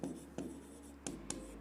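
Marker or chalk writing notes on a board in a classroom, several short scratchy strokes and taps in an irregular rhythm, faint and close.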